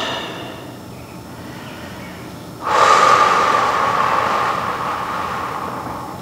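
A soft inhale, then a sudden loud, sustained breathy exhale during a yoga stretch, close and alone.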